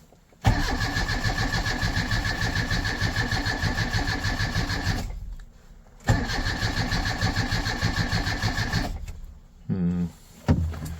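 Engine of a home-built vehicle cranking and catching twice before its first drive, each start running as a loud, rapid, close chugging idle for several seconds, then cutting out, followed by a brief sputtering restart attempt.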